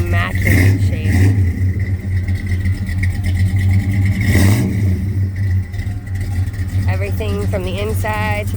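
A 1966 Dodge Charger in immaculate shape, its engine idling and revving in loud bursts, with people talking over the running motor.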